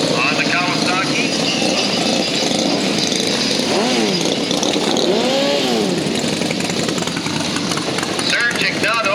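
Kawasaki racing motorcycle engine revs loudly at a drag racing rally, rising and falling in pitch as the throttle is blipped, with an announcer talking over the steady engine roar.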